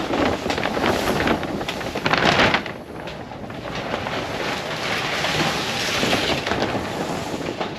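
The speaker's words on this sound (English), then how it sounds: "this sheet of plastic is not making it very easy for me because it's blowing onto the render" Plastic sheeting flaps and rustles against fresh silicone render on a house exterior as steady wind gusts buffet the microphone, with a stronger burst near the start, no voices present.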